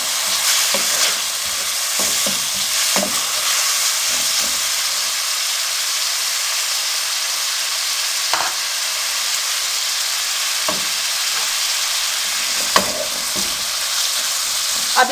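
Garlic paste sizzles and fries in a hot pan for the Pakistani dish dal bharay karelay, a steady close hiss of oil with occasional stirring clicks and scrapes throughout.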